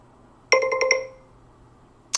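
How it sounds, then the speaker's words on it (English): A cell phone rings with a short burst of rapid electronic tones, five quick pulses in a row, loud and close in a quiet room, followed by a single brief tone about a second later. "So that was my cell phone."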